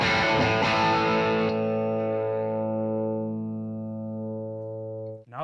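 An electric guitar on its full humbucker pickup setting plays a distorted riff through effects. A quick strummed attack gives way to a long, sustained ringing chord that fades slowly.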